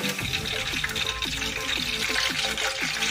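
Sweet potato fries frying in hot oil at home, a steady close sizzle with a rhythmic series of bubbling pops that continues throughout.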